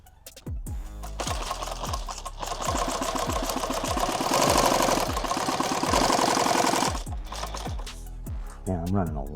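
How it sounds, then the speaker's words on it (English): A sewing machine hems a padded OD green war belt, stitching in fast rhythmic bursts with brief pauses between runs, loud and close, with a short spell of talk at the end. "I'm gonna hem this right here."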